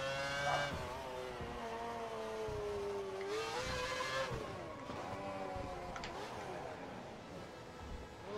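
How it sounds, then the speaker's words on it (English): Formula One race car in F1 2012 losing grip and spinning out, engine droning and shifting pitch with bursts of tire squeal and skidding, one car close and steady throughout. "Man, I'm spinning out everywhere."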